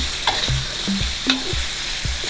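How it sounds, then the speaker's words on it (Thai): Young tamarind chili paste stir-fried in a pan with a splash of water: steady sizzling under repeated scraping strokes of a spatula, close and clear, with no talking. "แล้วเดี๋ยวรอผัดให้แห้ง"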